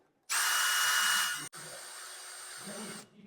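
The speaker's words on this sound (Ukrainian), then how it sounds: "Відкручуємо фіксувальні гвинти." Cordless power driver backing out the fixing screws on a Robar 250 water filter membrane housing, two loud whirring bursts, the first steady and strong, a brief stop, then a second slightly lower run before it winds down.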